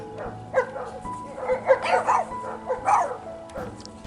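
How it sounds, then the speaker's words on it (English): Neighbouring dogs bark in an open field beside farm animals, a series of irregular yips and barks with a whimper, fairly close and clear, with no talk. "this is our problem with neighbor dogs running through our field, running around my animals all the time"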